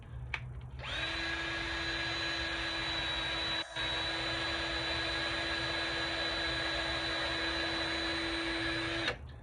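A power drill drives a screw into wood for a soil sifter, a loud steady whine lasting about eight seconds with a brief dip midway, then stopping.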